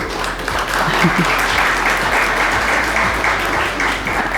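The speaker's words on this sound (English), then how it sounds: "Applause for them." Audience applause at an official opening event at The Rooms, honouring the emcee and sign interpreter: steady, full clapping from a crowd, continuous and even in loudness from start to finish.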